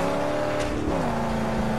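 A car engine in Mad Max on PS4, sounding sluggish, drones steadily with a tonal hum that dips briefly and then settles, loud and continuous with no talk.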